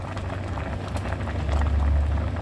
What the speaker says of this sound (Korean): 아이고 잘 끓어요